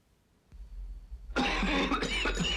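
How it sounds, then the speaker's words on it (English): A burst of harsh coughing in a 1980 Formula 44D cough medicine TV ad starts abruptly after a quiet moment, loud and close, with a couple of rough hacks in a row. "with this nasty cough plus congestion"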